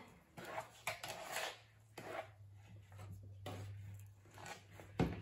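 A spoon stirs thick cornmeal brownie batter by hand in a bowl, making soft, uneven scrapes and dull knocks against the dish in irregular bursts, close and quiet with no talking.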